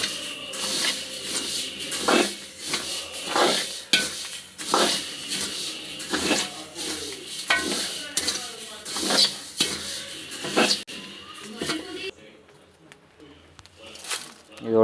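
Spices with fenugreek seeds roast in a pan for a Jaffna-style dish, with repeated scraping stirs and light clatter of a spoon against the pan under a person talking.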